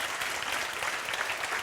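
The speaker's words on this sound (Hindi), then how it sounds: "जोरदार बजाओ ताली।" A group claps steadily and fairly loudly throughout, a dense, even patter of many hands celebrating a friend's new government job.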